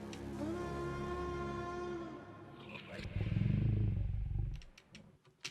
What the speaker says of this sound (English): And then like a growl like a lion.